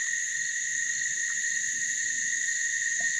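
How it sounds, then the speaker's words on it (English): Cicadas buzz loudly in a steady, unbroken, high-pitched drone near a coastal lookout facing the Peregian area in Australia, holding at full strength throughout. "the cicadas are still going to be noisy"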